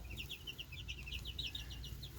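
Young chicks cheep continuously in a brooder, a rapid chorus of high, thin peeps close by over a low steady background.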